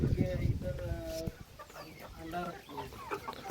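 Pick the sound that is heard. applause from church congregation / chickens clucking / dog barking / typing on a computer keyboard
chickens clucking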